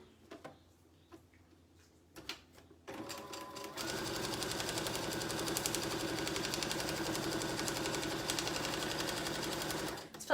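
A sewing machine stitching quilt fabric pieces for a foundation paper pieced crab block starts after a few quiet handling clicks, then runs at a fast, even, rhythmic whir and clatter for several seconds before stopping.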